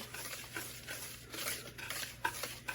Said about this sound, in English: we're going to whisk it till it's pretty well